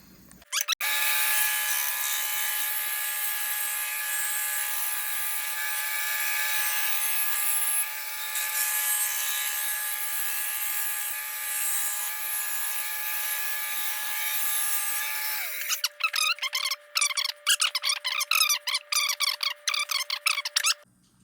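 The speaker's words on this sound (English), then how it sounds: "Let's go over the bandsaw and cut this out." Bandsaw cutting out a wooden hammer handle: a steady loud machine whine with a constant hum runs for about fifteen seconds, then the blade noise drops away into a rattling, fluttering rundown while the tone continues.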